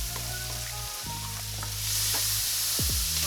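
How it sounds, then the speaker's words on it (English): White and red onions sautéing in a pan for taco chili soup, a close, continuous sizzle with a few light spatula stirs that grows slightly louder toward the end, and no talking. "saute our onions first"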